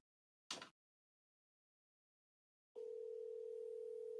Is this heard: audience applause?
no